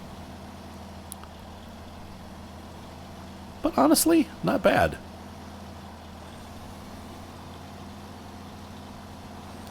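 A Kenworth truck in the Snowrunner game drives off-road, its engine holding a steady low drone throughout while someone speaks briefly over it.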